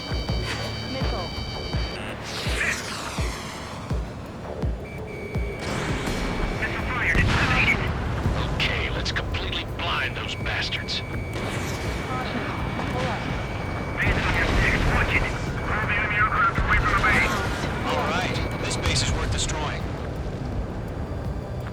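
Missiles launch and explode during an aerial combat mission in the flight game Ace Combat 7, a dense, continuous roar of rumbling blasts and jet noise with radio voices talking over it.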